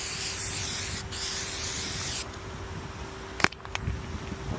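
A spray paint can hisses steadily while misting a shingle roof outdoors, then cuts off, followed by a couple of short sputtering bursts and faint rustling.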